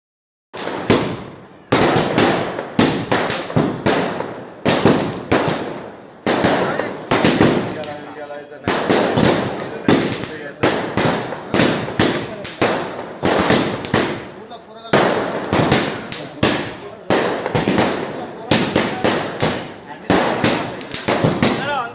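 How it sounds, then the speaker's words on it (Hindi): Fireworks and firecrackers set off at a celebration, with dense rapid bursts of crackling bangs in long volleys, loud and close, with brief gaps between barrages and voices mixed in. "बाद अज़ां ज़बरदस्त आतिशबाजी भी की गई।"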